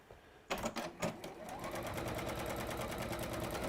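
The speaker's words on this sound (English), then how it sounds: "I'm going to stitch that down using those perforated lines as my seam allowance" A sewing machine stitches fabric along perforated lines, opening with a few short stop-start bursts before settling into a rapid, even, rhythmic running hum, close up with no speech.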